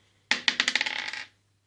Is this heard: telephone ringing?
no